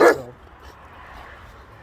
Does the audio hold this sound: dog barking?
yes